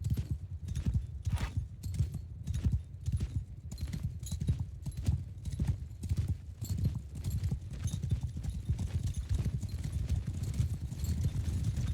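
Cavalry horses gallop in a Mount & Blade Bannerlord battle, a dense, steady drumming of many hooves that fills the whole stretch at a moderate level, with no clear voices over it.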